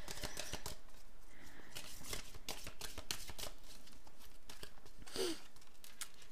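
Crisp rapid riffling and flicking of Médéors oracle cards being shuffled and drawn, a busy series of close papery snaps and slides with a faint voice briefly underneath.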